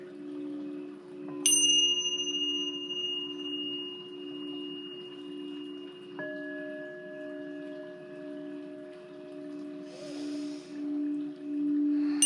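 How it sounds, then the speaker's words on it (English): Small meditation bells struck a few times, each tone ringing out with a long sustained decay before the next strike, calm and fairly near, with a steady low hum beneath. "Going to do little bells, get us in the vibe, get us in the mood."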